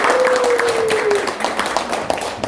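An audience at a regional food-culture forum in Jeongseon claps together, a dense, steady burst of applause that thins out toward the end, with a faint whistling tone early on.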